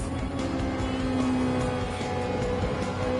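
A race car in a racing video game on the Nürburgring endurance circuit, its engine a steady loud drone with a brief rising whine midway, as if downshifting into a corner, alone without talk.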